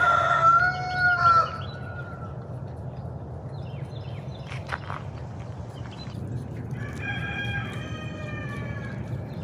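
Roosters crow loudly at the start and again later, with softer clucking and farmyard noise between over a low steady rumble.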